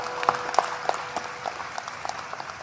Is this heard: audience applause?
yes